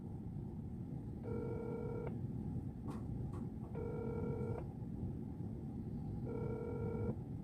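A telephone rings three times unanswered in evenly spaced electronic bursts over a steady low background rumble, with a couple of brief clicks between rings.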